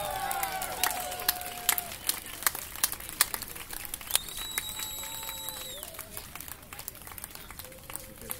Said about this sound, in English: why are they clapping again?